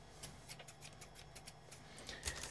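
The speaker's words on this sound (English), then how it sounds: "Scissors." Faint, quiet snips of scissors, opening a Taylor Model 22 signal tracer for restoration, repeat in a loose series of short crisp cuts against a soft background hum.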